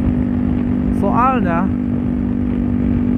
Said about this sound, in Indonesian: Jadi satu silinder tuh gimana ya, lebih ngecereng gitu, ngebreng gitu suaranya.